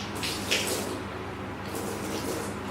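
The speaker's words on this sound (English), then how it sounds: "That's water." Water runs steadily from a tap in a photographer's studio, a broad continuous rushing gush with slight surges, close and fairly loud throughout.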